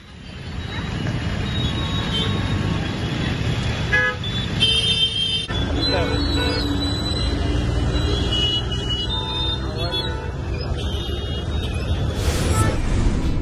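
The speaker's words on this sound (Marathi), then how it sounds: "राजगुरुनगर शहरात भर चौकात ट्रॅफिक जाम होण्याचे प्रकार पुन्हा समोर येत आहेत" Traffic jams a busy town-centre intersection in Rajgurunagar, a constant loud drone of engines with honking horns, squealing brakes and mechanical whines layered over it throughout.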